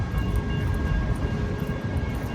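A train rolling past on the rails, a loud, close, steady rumble with a faint metallic squeal running through it, heard alone with no voices.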